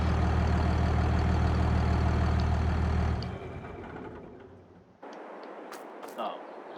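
A tractor engine in Farming Simulator 22 rumbles loudly at idle with a deep, steady low drone. It drops away after about three seconds and gives way to quieter ambient sound with a few faint clicks.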